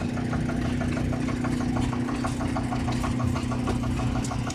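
A McCormick tractor engine idles at the Milton steam era show. It makes a steady, close, low rumble with a fast rhythmic knock that runs through the whole stretch without talk.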